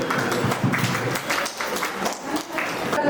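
Guests at a traditional baby shower clap together in a short burst of dense, continuous applause, close and loud throughout.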